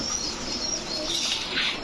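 A female semi-jet pigeon with a tight-feathered neck flaps its wings close by, a steady, soft whirring flutter that lasts the whole moment, mixed with faint bird chirps and no voices.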